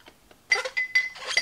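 Heavy glass solar path lights with cast aluminum tops clinking as they are handled during a pallet unboxing, several sharp ringing clinks in quick bursts, close and loud with no talking.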